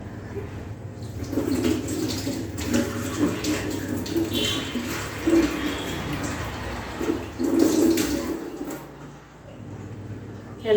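Water runs from a kitchen tap while a face is washed, a continuous rushing flow with uneven splashing surges and a soft background murmur throughout.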